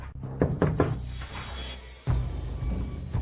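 Knocks on a door, a few sharp raps close by early on, followed by a heavier thump, with low voices murmuring in the background.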